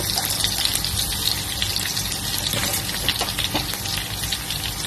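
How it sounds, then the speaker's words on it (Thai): Garlic sizzles in a hot pan for a Thai pork belly and mustard greens dish with bitter melon, a continuous hissing crackle of frying heard up close and without speech. "เราก็เอากระเทียมลงกระทะเลยนะคะ"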